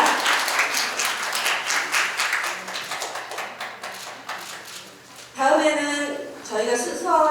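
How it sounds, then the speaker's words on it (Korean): An audience at a Korean literary association's inauguration ceremony claps for a plaque recipient, a lively burst of applause that fades before a voice begins speaking near the end. "감사표를 수상하신 윤숙 사무국장님께 다시 한번 큰 박수 부탁드리겠습니다"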